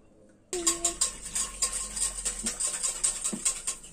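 A whisk beats bagel dough mixture in a bowl, starting abruptly and continuing as a quick, rhythmic series of close clinks and scrapes against the bowl, moderately loud.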